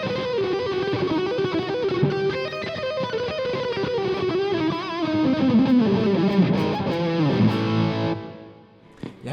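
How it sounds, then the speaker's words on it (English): Electric guitar played through an overdrive pedal and reverb on a pedalboard, distorted sustained chords and notes ringing thick and close, then trailing off into a decaying reverb tail. "I'll kick in the overdrive now just to spice things up."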